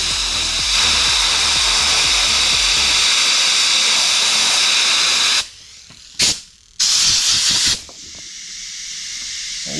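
A fuel injector from a 1995 Pajero Mini Turbo sprays carburetor cleaner in a loud, steady, close hiss that cuts off abruptly, then returns in two short bursts before stopping.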